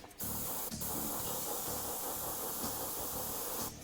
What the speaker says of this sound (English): Give it a little spray.